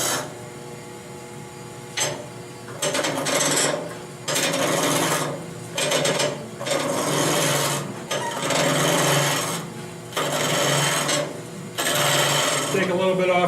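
A gouge on a wood lathe turns a wooden bottle stopper, making long rasping scraping passes that start and stop every second or two, loud and close with a steady motor hum beneath.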